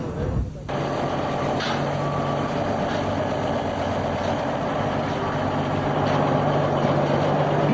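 Formula One transport trucks give off loud, steady reversing beeps over a low idling engine rumble. The beeping carries on throughout, with a voice talking underneath.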